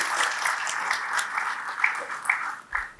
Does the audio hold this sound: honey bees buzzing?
no